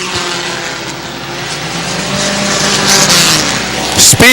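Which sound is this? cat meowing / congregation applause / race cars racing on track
race cars racing on track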